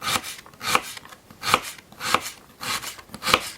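A knife slices an onion into half rings on a board, each cut giving a crisp, close chopping stroke in a steady rhythm of about six strokes.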